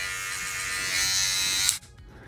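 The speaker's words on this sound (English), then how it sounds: "It's not a sander necessarily, it's a polisher. It's really going to smooth down the surface even more than what it already is." A small electric rotary polisher with removable sandpaper discs, used for smoothing 3D prints, whirs with a high, steady buzz close by, then switches off abruptly, leaving near quiet.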